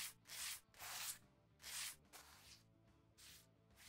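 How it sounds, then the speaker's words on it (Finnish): Sandpaper rubbing over a leather car seat in the video game Car Detailing Simulator, coming as four loud, close, rhythmic back-and-forth scrubbing strokes with brief pauses between them, and no speech. "että nahkapenkki jollain hiomapaperilla hinkataan"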